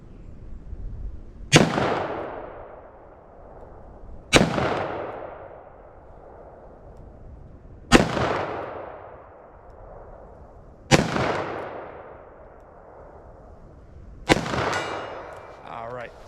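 A .357 Magnum snub-nose revolver with a 2-inch barrel fires five loud, sharp shots outdoors on a range, spaced about three seconds apart, each ringing off with a long echoing decay.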